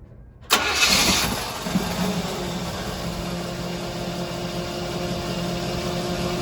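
A brief starter whir and an ice groomer's engine catches abruptly, then settles into a steady, close, rumbling idle.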